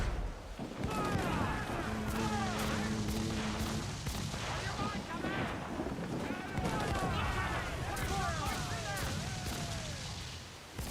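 Ship cannons fire in Assassin's Creed 4 Black Flag during a naval battle, with repeated heavy booms and crackling blasts under shouted crew voices and other game sounds, loud and continuous throughout.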